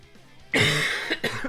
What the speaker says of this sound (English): this cough just won't go away, and I hate it.